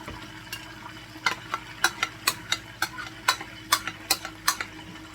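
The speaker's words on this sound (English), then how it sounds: "So let's put the stuffing mix in the casserole dish." Stuffing mix for pork chops and dressing being spooned into a casserole dish, a series of soft, close scraping and tapping stirs in an irregular rhythm over a quiet kitchen background, with no talking.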